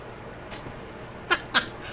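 Frightened house cats give two short, sharp meows close together, with a fainter yowl just before, over a quiet indoor background.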